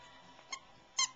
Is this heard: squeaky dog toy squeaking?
yes